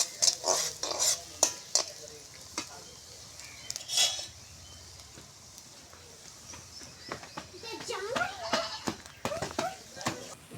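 Onions and chili fry in spiced oil in a pan, with sharp spoon scrapes and clinks against metal over a faint sizzle, the stirring coming in uneven bursts throughout.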